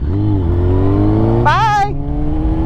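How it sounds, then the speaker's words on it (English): A 6R sport motorcycle with a loud aftermarket exhaust drones steadily close by, then gives a sharp rising rev for a moment before settling back to a steady engine note. "my bike has a louder exhaust than he does"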